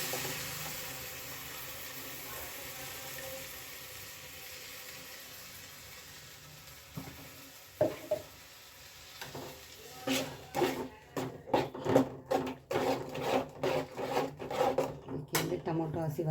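Ground tomato paste tipped into a hot pan of paneer gravy for a coconut-milk recipe. It begins as a faint, steady sizzle, then a run of stirring scrapes and clatters turns louder and more uneven near the end.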